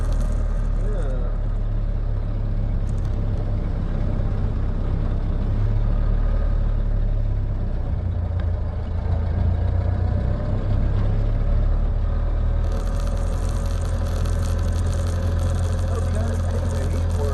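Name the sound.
1928 Ford Model A engine idling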